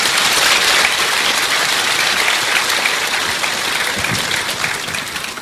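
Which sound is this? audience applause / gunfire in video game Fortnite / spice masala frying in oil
audience applause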